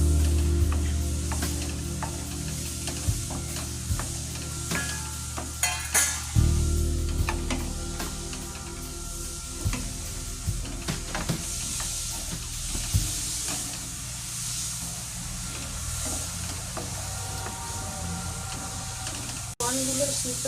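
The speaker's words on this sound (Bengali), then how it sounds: "চিংড়ি মাছ দিয়ে ভালো করে ভেজে নিতে হবে" Prawns frying in spiced masala in a pan for a Bengali daab chingri, a steady broad sizzle running throughout with scattered clinks and scrapes, and a voice speaking faintly in the background.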